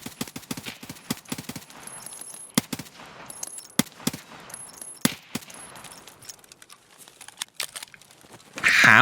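Gunfire in Escape from Tarkov on the Interchange map: a scattered string of sharp, fairly distant shots, some single and some in quick bursts, over a quiet background, with a louder noise rising at the very end.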